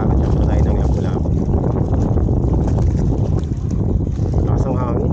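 Strong wind buffets the microphone while fishing from a moored barge at a Baseco spot, a loud, continuous rushing roar filling the whole stretch, close and unbroken.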